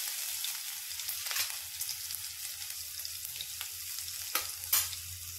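Garlic sizzles and crackles steadily in hot oil with mustard seeds, a close, continuous frying hiss broken by a few sharper pops, with no one speaking.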